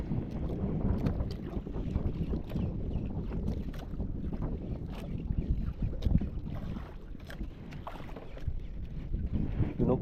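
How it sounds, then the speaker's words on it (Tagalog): Wind buffets the microphone on a boat while fishing, a continuous rough rumble with gusty swells and scattered clicks and knocks, near and fairly loud throughout. "Yun na lang naman hangin pala."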